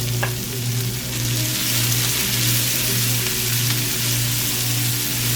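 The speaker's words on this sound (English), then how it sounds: "I'm going to go in with chopped onions and pimento peppers, and we're going to saute that until it's translucent" Chopped onions and pimento peppers sizzle steadily in a hot pan for a Trini curry channa and aloo, a continuous close frying hiss with faint stirring and no talk.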